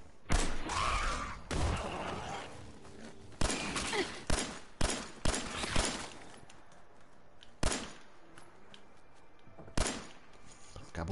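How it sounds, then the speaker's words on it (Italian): Gunfire from the video game Fallout 4 comes as a string of sharp, punchy shots at irregular intervals, some in quick clusters. A player talks excitedly between and over them. "ti sparo in faccia, ti sparo"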